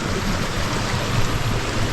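A stream rushes steadily over rocks in forest hills in Thailand, a continuous, fairly loud babble, with no voices.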